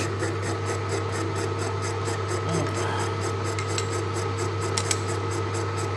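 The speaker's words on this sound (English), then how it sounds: "I'll plunge it down that edge" A Bridgeport manual milling machine plunges its cutter down the edge of a workpiece for a handmade motorcycle jig, giving a steady motor hum under a continuous rasping cut with faint rhythmic ticks, close and even throughout.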